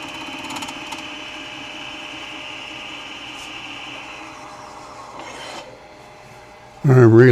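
A carbide tool cuts a wet, punky spalted alder bowl with epoxy on a lathe, giving a steady close rasping scrape that fades out, followed by a brief loud noise at the end.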